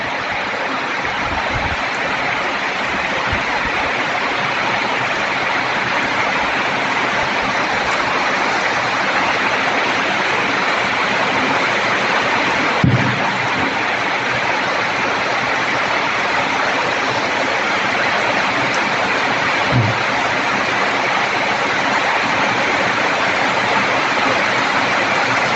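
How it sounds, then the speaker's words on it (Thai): Steady, dense rain pours without a break, a broad even hiss like a downpour on a roof or ground, with two faint knocks partway through and no voices. "ฝนลง"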